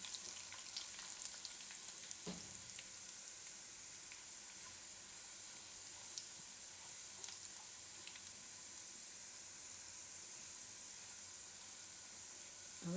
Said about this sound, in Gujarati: થોડુંક લાલ ખાવા દેવાનું લસણને